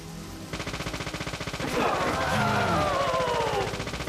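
Rapid gunfire in the video game Resident Evil, a loud rhythmic burst of repeated shots with a swelling layered crash and game effects over it.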